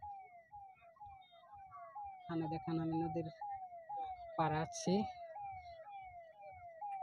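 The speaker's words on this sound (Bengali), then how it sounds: "তো ওখানে পুলিশের গাড়ি যাইতেছে" A police car's wailing siren sweeps up and down repeatedly as it passes along a long bridge over a river, fairly distant and steady throughout, with someone talking close by over it and brief louder traffic noise midway.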